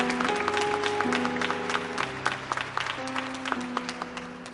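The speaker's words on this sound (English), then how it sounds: "Give our South African friends a loving round of applause." Audience applause at a panel discussion forum, a steady wash of clapping with a few louder claps, heard over sustained musical tones that continue throughout.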